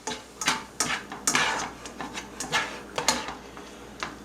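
A spoon stirs onions in a pan, with repeated scraping and clinking strokes against the metal in an irregular rhythm, close and fairly loud, with no talking.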